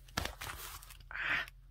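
Excess edge trimmed off a junk journal cover made from an old painting, with a couple of quiet, brief crunching cuts through the stiff material, close up and without talk.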